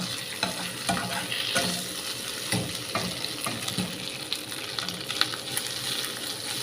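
Squid roasting in hot oil in a pan after its water has cooked off gives a steady, close sizzle and crackle. Soft stirring scrapes recur throughout.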